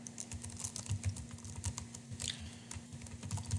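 Fast, irregular clicking of computer keys as Python code is typed on a keyboard, close and fairly quiet, with no voices.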